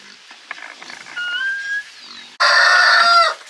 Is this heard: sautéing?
no